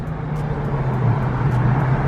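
A car engine pulls hard under acceleration, a loud continuous low drone that rises slightly in pitch over two seconds with road noise around it.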